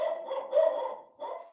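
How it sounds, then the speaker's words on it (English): A pet dog barks in a home during an online parks and recreation committee meeting, a few close, fairly loud barks in quick succession with a short pause before a final one, heard alone without talk. "I'm sorry, that's my dog."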